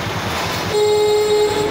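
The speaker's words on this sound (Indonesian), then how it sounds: "Nah kalau kita pencet klakson juga ya" A Yamaha Force FI motorcycle horn with an electrical charging fault pressed once, a steady loud tone starting partway in and holding for about a second over the idling engine, close to the microphone.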